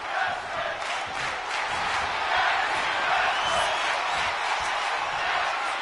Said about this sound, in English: This crowd is chanting tag team wrestling